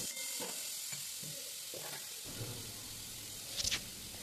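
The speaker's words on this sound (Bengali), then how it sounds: "তেলের মধ্যে দিয়ে দিলাম শুকনো লঙ্কা, তেজপাতা এবং গোটা জিরে ফোড়ন" Dry red chillies, bay leaf and whole cumin seeds sizzle in hot oil in a pan, a steady close frying hiss with a few clinks and a brief sharp crackle burst near the end.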